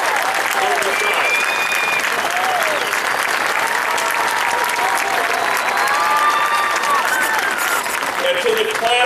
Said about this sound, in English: I did just want to ask if we could all give a big round of applause for the staff and faculty of Valley High School